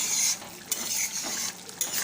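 Fish curry being stirred in a cooking pot on a gas stove, giving soft scraping and clinking of a spoon against the metal, with a few brief louder knocks at an even pace.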